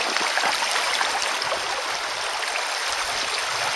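Rushing river rapids pour over rocks on the Kereth river, a loud, steady broadband roar of churning water that stays close and continuous throughout, with no voices.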